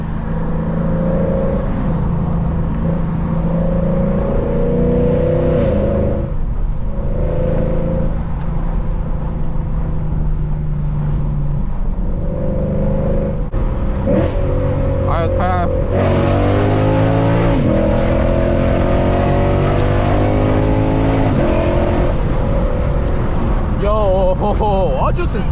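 Loud FBO Lexus RC F V8 engine driving, droning steadily and then revving higher with rising pitch as it accelerates through gears, with people talking over it throughout.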